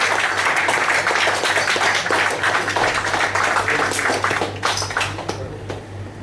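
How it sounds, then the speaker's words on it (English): An audience at an installation ceremony claps in sustained applause, loud and dense at first, then thinning and fading toward the end. "Please give her a thunderous round of applause"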